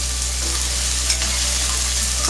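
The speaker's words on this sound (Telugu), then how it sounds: "తర్వాత ఒక కప్పు ఆనియన్ తరుగు వేసుకొని ఆనియన్స్ బాగా వేసుకోవాలి" A cup of chopped onions sizzles loudly and steadily in a hot pan, a dense continuous frying hiss with no voices.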